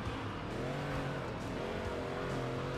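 A Ford modern muscle car engine in the Xbox racing game Ford vs. Chevy, a steady droning roar with layered harmonics rising and falling slightly as it runs at speed.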